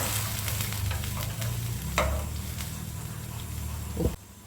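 A thick chutney bubbling and sizzling steadily in a pan, with a low hum underneath and a soft clunk near the end.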